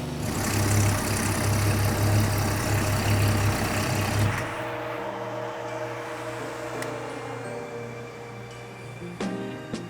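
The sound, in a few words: 1962 supercharged Slant Six engine running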